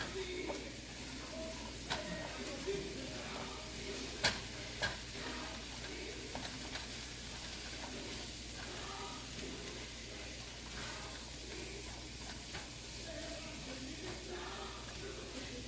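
Lo mein ingredients fry in sesame oil in a pan, a steady soft sizzle and hiss with occasional stirring clinks and scrapes, close and continuous, no talking.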